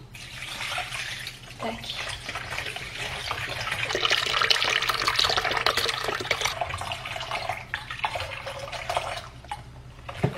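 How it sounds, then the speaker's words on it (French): A litre of milk pours in a continuous liquid stream for homemade yogurt, a close splashing rush that swells midway, with a brief spoken word near the start. "Mettre 1 litre de lait."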